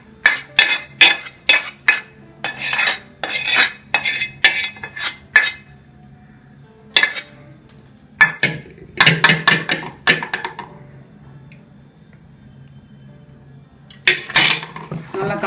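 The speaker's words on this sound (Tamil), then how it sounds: "நல்லா கலந்துக்குவோம்." Millet dumpling batter with sautéed onion mixed in by hand, a spoon clinking and scraping sharply against a metal bowl in quick bursts, pausing, then resuming up close with no talking.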